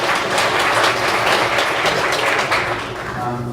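Conference audience at a PostgreSQL event applauding steadily and loudly for several seconds, dense overlapping clapping that thins slightly toward the end, with faint murmuring beneath.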